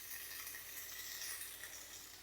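Tomato paste, ginger and garlic sizzling in a pan, a soft, steady high-pitched frying hiss, faint and even with no talking.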